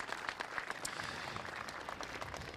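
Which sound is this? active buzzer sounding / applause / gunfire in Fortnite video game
applause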